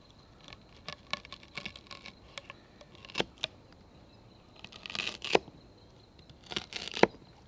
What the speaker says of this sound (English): And now I'm going to go ahead and dice this up.